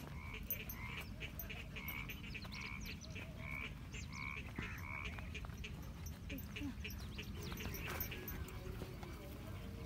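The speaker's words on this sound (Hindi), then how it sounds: "ये देख मेंढक कहाँ बोल रहे हैं" Frogs croak in repeated rhythmic bursts through the first half, faint and distant outdoors, with a steady low background rumble and a voice talking over them.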